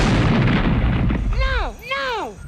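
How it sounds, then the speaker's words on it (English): A heavy, rumbling film explosion blast fills the first part, then two swooping, siren-like tones rise and fall over the fading roar. "our screens are adorned with explosions and loud noises"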